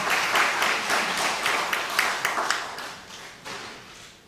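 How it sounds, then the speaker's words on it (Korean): An audience claps at a university alumni family-night worship and festival gathering, a brief burst of dense applause that tapers off over a few seconds, heard without speech. "박수 안 치십니까?"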